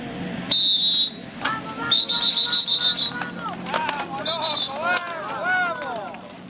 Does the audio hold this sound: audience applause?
no